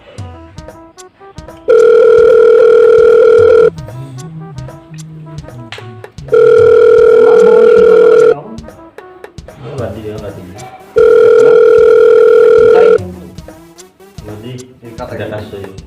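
A telephone rings unanswered in three long, loud steady bursts separated by pauses, with people talking between and under the rings.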